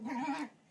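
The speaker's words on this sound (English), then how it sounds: "You can hear my puppy in the background" A puppy gives a single short, feisty bark-whine lasting about half a second, faint and in the background of an indoor room, with no talk over it.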